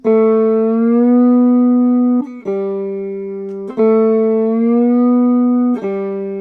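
A glass slide on a three-string cigar box guitar: sustained notes with smooth gliding pitch bends between them, a sliding, singing tone with slight buzz, loud and close, picked a few times.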